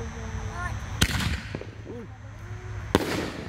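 An Overloaded Canister color shell from Heavyweight Fireworks goes off in two sharp, loud reports about two seconds apart, outdoors at a backyard shoot, with people talking around them.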